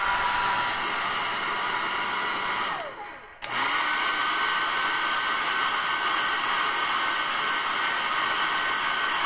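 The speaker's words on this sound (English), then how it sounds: "I'm going to take a blow dryer" A blow dryer runs steadily near a sink as it heats soap packaging, a constant loud whooshing roar that briefly drops and cuts out for a moment before resuming at full strength.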